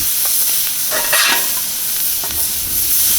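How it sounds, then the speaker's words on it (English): Smash burger patties crisp on a hot griddle with a loud, continuous close-up sizzle and spatter, broken by a few brief scraping bursts. "I'm gonna let them crisp up here. The temp is higher. Let's let them rip."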